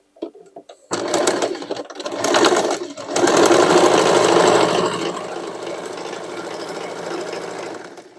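A sewing machine runs continuously, stitching decorative seams on old denim jeans being made into a hoodie, with a short start-stop burst before a long steady loud whir.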